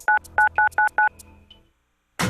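Telephone keypad dialing tones in a law office advertisement: five crisp beeps in quick succession, followed by a brief fade into silence before other sound resumes.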